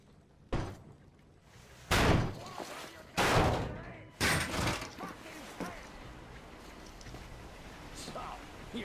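A heavy door shoved open in the game Metro Exodus, with several loud thudding impacts and scraping mechanism sounds in quick succession, mixed under game ambience.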